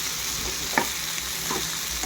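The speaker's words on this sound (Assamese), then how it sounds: "আলু আৰু কোমোৰাটো সিজালৈকে মই অকণমান ভাজি ল'ম।" Potato and pumpkin frying in a pan for an Assamese-style duck curry, heard as a steady close sizzle with a couple of soft stirring scrapes and no one talking.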